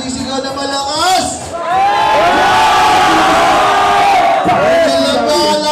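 A live hip-hop concert crowd roars and shouts loudly in a sustained wall of cheering and whoops that swells after a brief dip and stays close and dense to the end.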